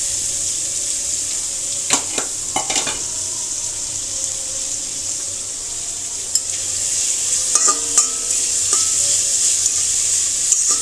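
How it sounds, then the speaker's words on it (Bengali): Onions frying in hot oil in a pan, a continuous sizzle with sharp stirring scrapes and clatters near the start and again later, growing slightly louder toward the end. "তেলটা আমার গরম হয়ে গেছে, আর এখন পেঁয়াজগুলো দিয়ে দিব।"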